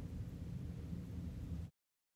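Rain shower falling in London, a dense low rumbling patter with a thundery roll, steady and close, then cutting off abruptly into silence.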